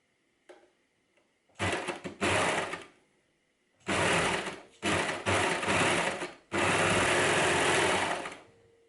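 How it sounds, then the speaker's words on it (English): A serger runs in several loud, close bursts of a few seconds each while joining knit shoulder seams with clear elastic, whirring with steady rapid stitching between brief pauses, with no talking. "I joined the shoulder seam and attached the clear elastic at the same time because there's a slot in my serger that makes it easier"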